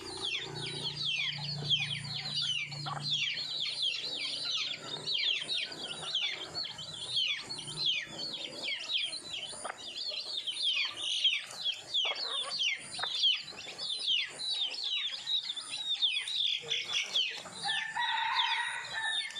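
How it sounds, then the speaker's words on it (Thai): Yellow crossbred hen clucking among other chickens while a rooster crows, with a dense, continuous chorus of fowl calls and chirps at moderate distance and no talking. "ไก่แม่ตัวนี้สวยมากครับ เป็นลูกผสมนะครับ"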